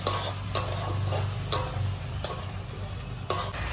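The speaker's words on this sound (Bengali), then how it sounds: "মশলাটা আমি একটু কিছুক্ষণ কষিয়ে নিব" Ground spices, including coriander, cumin and dried red chilli powder, frying in oil for a fish curry, with a steady sizzle broken by several sharp scrapes and taps of a spoon against the pan, close and with no speech.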